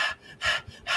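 A person taking deep breaths, rapid, loud, close airy inhales and exhales in a quick repeating rhythm.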